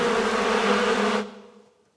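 A recording of a swarm of small bees plays as a dense, steady buzzing drone that holds for just over a second before cutting off abruptly and fading to silence.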